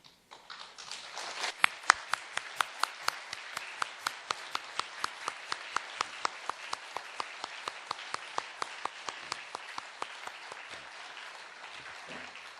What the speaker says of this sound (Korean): 꽃다발 받을 때 기쁘게 힘차게 박수로 격려해 주시기 바랍니다